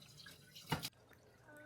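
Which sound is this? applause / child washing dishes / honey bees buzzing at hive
child washing dishes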